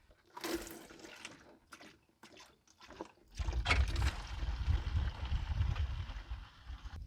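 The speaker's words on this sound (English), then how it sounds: "that's been dripping for quite a while" Engine coolant draining from a car's cooling system into a bucket after a cleaning-solution flush, a steady close pouring and splashing of liquid that starts after a few scattered drips and clanks and runs on without break.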